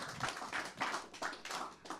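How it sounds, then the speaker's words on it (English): A studio audience in Oakland applauding a guest DJ, a short burst of scattered hand claps swelling and fading in uneven waves, fairly close and moderate in level. "So another round of applause for that, for representing."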